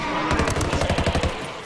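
Automatic gunfire in the video game Ghost Recon Wildlands, a rapid burst of about a dozen evenly spaced shots, loud and close, with no voices over it.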